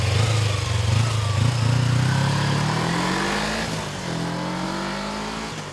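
A 1999 Kawasaki Ninja EX250F motorcycle engine runs steadily up close, its tone rising as it revs, with a continuous throaty drone and no talking.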